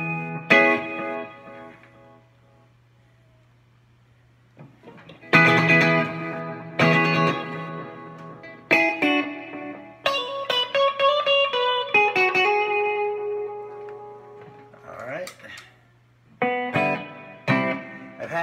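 An overdriven electric guitar plays through an MXR Carbon Copy analog delay pedal. Chords and single notes repeat in warm echoes that trail into pauses, played loud and close.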